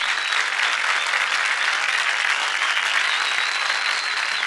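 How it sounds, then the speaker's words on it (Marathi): A studio audience bursts into loud, sustained applause, a dense even wash of clapping from a crowd welcoming Marathi actress Varsha Usgaonkar on a television celebrity show, with no voices over it. "त्यांच्यासाठी जोरदार टाळ्या होऊन जाऊ देत"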